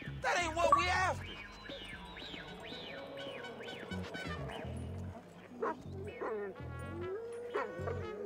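Chop, the dog in the video game GTA V, barks loudly at first and then yips and whimpers in a high, repeated whine. Low game sounds and a speaking voice sit underneath.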